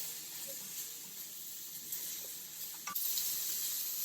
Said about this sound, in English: We want to saute these on a medium-high heat, just enough to get these translucent